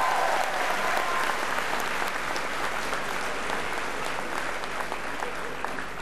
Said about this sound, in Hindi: तो एक बार जोरदार तालियां स्वामी जी के लिए और आचार्य जी के लिए।